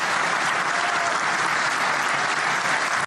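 A Ukrainian audience bursts into a storm of applause, dense and sustained clapping from many hands that holds steady and loud for about three seconds before cutting off abruptly.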